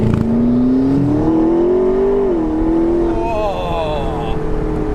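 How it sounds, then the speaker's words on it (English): McLaren 650S Spider engine and exhaust accelerating with a cold engine, a loud, close, smooth rising whine and roar that climbs steadily, dips briefly at a gear change, then keeps pulling hard. "The exhaust, it sounds smoother, and there's no break of traction in the rear wheels like there is in the 570."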